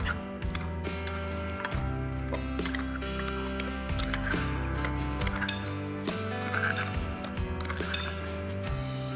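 A spoon stirs a grated nutmeg mixture in a bowl, making light, frequent clinks and scrapes against the bowl over a steady background of soft music.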